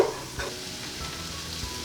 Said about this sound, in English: You can probably hear that sizzling a little bit.